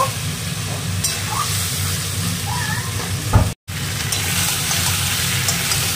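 Mutton sizzling and frying steadily in a pan during kosha-style sautéing, a constant broadband hiss with faint stirring, interrupted by a brief dropout midway.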